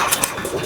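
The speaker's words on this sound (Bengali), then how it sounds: "একটা গররা কবুতর ছেড়ে দেখাবো, বুঝছেন, যেন ও ডাকে" A large-breed pigeon cooing nearby in two short bursts, close and fairly loud, with no one speaking.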